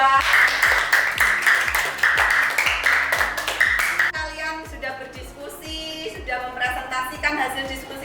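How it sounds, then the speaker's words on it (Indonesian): A classroom group claps in applause for a presenting student group, dense clapping running for about four seconds before fading into music and voices. "Tepuk tangan untuk kelompok 2."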